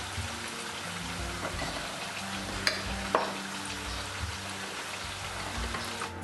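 Carrots being stirred in a frying pan, a steady sizzling fry with soft scraping and a couple of sharp clinks from the utensil against the pan, continuous and close, with no talking.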